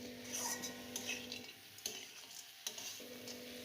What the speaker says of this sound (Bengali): খুব ভালোভাবে আরও মোটামুটি 3 মিনিট সব কিছু একসাথে করে আমি ভেজে নিচ্ছি।